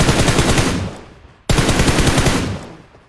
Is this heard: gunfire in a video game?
yes